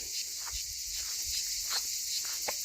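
A constant high-pitched drone of many cicadas and crickets in hot weather, loud and unbroken, with a few faint footstep-like scuffs and rustles beneath it.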